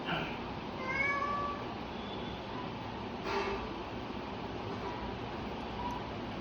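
A pet cat meows at home, a couple of drawn-out, rising calls near the start and another short meow midway, heard fairly close against a quiet background.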